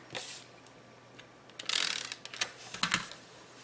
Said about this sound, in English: And then I use my tape runner,